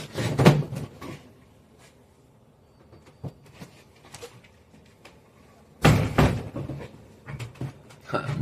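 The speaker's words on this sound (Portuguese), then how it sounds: "meu cachorro abriu a porta de uma forma muito brusca" A dog abruptly pushes open a door indoors, with two loud, sharp bangs and rattles a few seconds apart and softer knocks and shuffling between them.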